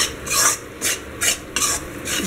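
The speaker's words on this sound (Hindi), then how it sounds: "बीच में हमें चाशनी को भी चलाते रहना है और बेसन को भी भूनना है।" Gram flour (besan) roasting in a pan for Rajasthani mohanthal is stirred in rhythmic scraping strokes, about five bursts of rasping sound with brief pauses, close and fairly loud with no talk.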